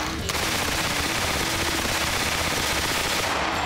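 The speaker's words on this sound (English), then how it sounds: "45 caliber submachine gun. It is a joy to shoot." A .45 caliber submachine gun fires one sustained, very loud automatic burst at close range on an indoor shooting lane, with no talk.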